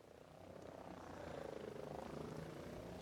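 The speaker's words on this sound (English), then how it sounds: "I wonder if you can actually shoot down the chopper with the cheats" A helicopter in the video game Ghost Recon Breakpoint gives off a steady, droning rotor rumble with a low, rhythmic chop that swells slightly and holds at a moderate level.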